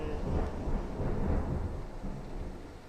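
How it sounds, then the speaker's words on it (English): Distant thunder rumbles low and continuous, rolling gently through the whole stretch at moderate volume with no voices over it. "I love thunder."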